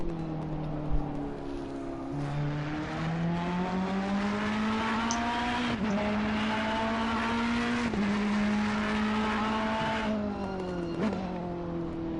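A Ferrari GT3 race car drives a lap at Paul Ricard circuit, its engine droning steadily with pitch climbing through the gears and dropping sharply at several shifts, loud and continuous.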